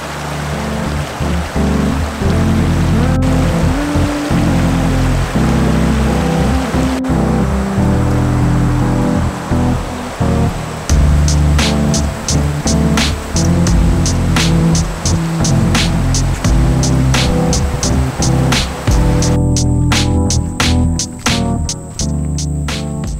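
A river flows steadily and loudly nearby, a continuous broadband rush of water with splashing texture throughout and no voices.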